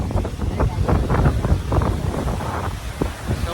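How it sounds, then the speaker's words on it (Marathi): Rough monsoon sea surf at Aravali beach, Shiroda, churns and crashes continuously, with heavy wind buffeting the microphone in a loud, close roar. "समुद्राची कंडिशन बघा सध्या पावसाची काय झाली आहे बघा लाटा बघते"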